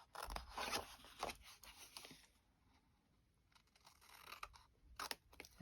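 Scissors snip through paper pocket corners for a craft journal, a few quick crunchy cuts and rustles up close, a quiet pause in the middle, then more snipping and paper handling.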